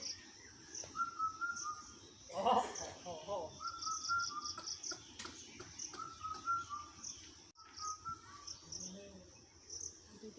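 Birds chirping in a garden in the morning: soft, repeated calls and tweets at a moderate distance, with one louder flurry of chirps early on over a quiet background hum.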